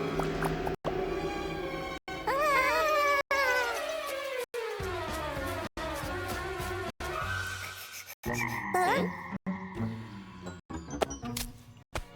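Repeated frog croaks in short bursts over a musical background, broken by brief silent gaps.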